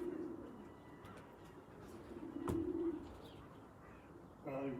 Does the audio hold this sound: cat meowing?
no